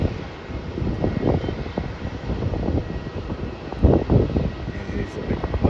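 A Jetstar Airbus A320 airliner lands at Melbourne Airport, its engines a steady, moderately loud rumbling roar with some wind buffeting on the microphone, no talking.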